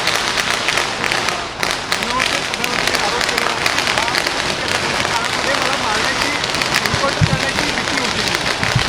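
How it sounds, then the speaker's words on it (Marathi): Firecrackers bursting in a celebration, a dense, crackling, continuous barrage of sharp pops that stays loud throughout, with a few heavier bangs near the end. "महायुतीत जिंकणार म्हटल्यानंतर फटाके वाजले"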